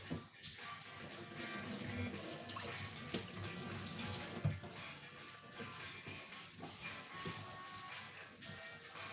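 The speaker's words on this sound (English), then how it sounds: "So I'm going to quickly wash my knife." A kitchen tap runs steadily as a chef's knife is rinsed beneath it, water splashing and hissing close by with small irregular spatters against the blade and sink.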